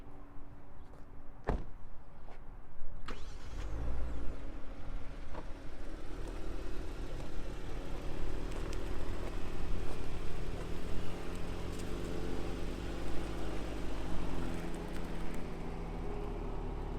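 A 2019 Genesis G70 3.3T is moved: two sharp door clunks come first, then the engine starts and settles into a low, steady idle and rolling drone that carries on to the end.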